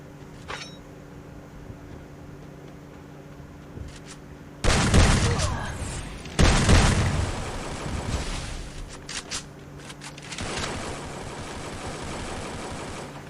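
Bursts of rapid gunfire in the game Free Fire, loud sharp volleys breaking in twice over a humming background, then fading to quieter rattling.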